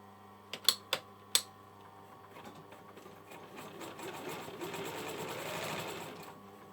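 A sewing machine stitches a buttonhole for a hoodie's hood cord: a few sharp clicks at first, then a steady, quiet mechanical whirr of rapid stitching that builds and holds close by.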